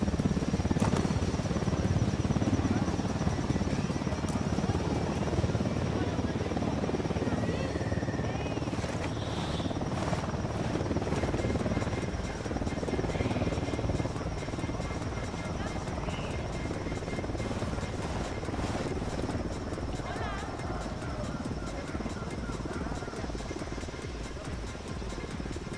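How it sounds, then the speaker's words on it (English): A helicopter in Ghost Recon Wildlands drones steadily throughout, a continuous buzzing rotor roar under occasional game voices and radio chatter. "Chopper, hit the dirt."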